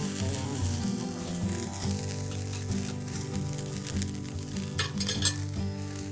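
A festive mixed paella with garrofón beans bubbles and simmers in its pan, a steady close sizzle under background music, with a few utensil clinks near the end.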